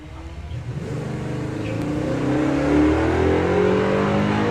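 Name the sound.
Mazda MX-5 drag racing launch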